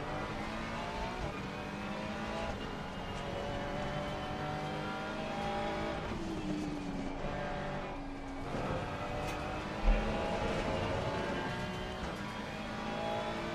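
Race cars at Kyalami in a racing video game drone and whine continuously, with engine pitch rising and falling through gear changes, a brief tire squeal, and a sharp bump near the end.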